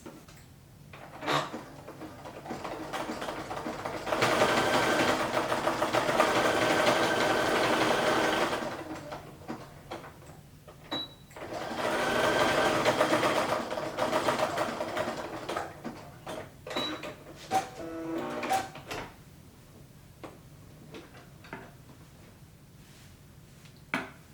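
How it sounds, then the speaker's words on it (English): Sewing machine stitching a bar tack at a sweatpants pocket, two sustained bursts of fast, even mechanical whirring a few seconds long, separated by clicks and handling noises, close and clear with no talk. "I'm going to put a bar tack right there at the top and the bottom of this pocket."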